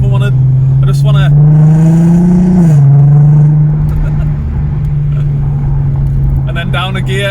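A VW Golf R32 Mk5 with its VR6 engine holds a loud, steady drone from inside the car, rising slightly before a downshift drops the pitch, with someone talking over it at the start and end.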